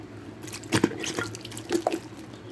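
Canned stewed tomatoes pour from the can into a slow cooker of stew meat for chili taco soup, with a few brief wet plops and splashes close by.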